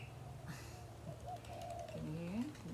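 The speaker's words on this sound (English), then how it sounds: "Spot the wattle bird." A wattle bird calls outdoors with a few rising and falling throaty notes over a steady low background hum, moderately near and not loud.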